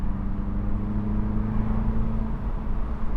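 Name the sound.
2025 Mini Cooper S convertible engine revving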